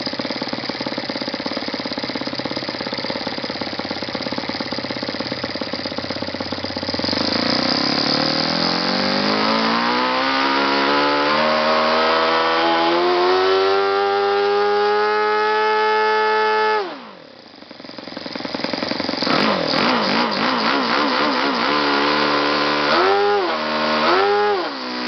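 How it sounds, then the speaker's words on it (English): A YS FZ70-S four-stroke model engine running loud and close, its buzzing note climbing steadily under slow throttle, dropping abruptly, then snapping up and down in quick bursts with fast stick inputs. "see how it responds very linearly to slow throttle inputs, but it's a very quick response to quick throttle stick inputs"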